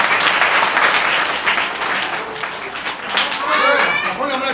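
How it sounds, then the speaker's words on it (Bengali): An audience at a magic show at Ramakrishna Math, Antpur, claps loudly together, a dense close burst of applause with voices mixed in and a brief dip midway before it swells again. "চলো একবার এই কথার পরিপ্রেক্ষিতে একবার সবাই মিলে একবার জোরে হাততালি।"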